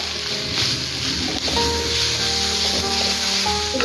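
Mango pickle pulp being stirred into a curry in a pan on the stove, with a steady loud sizzle and scraping stirring throughout, close up, no talk.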